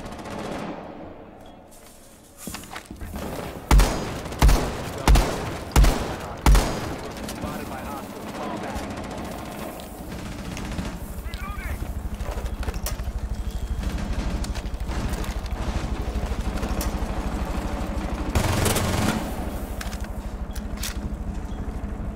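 In Rainbow Six Siege, a burst of rapid gunfire sprays a wall, with several sharp loud shots in quick succession followed by a long stretch of lower game ambience, with someone talking over it at times.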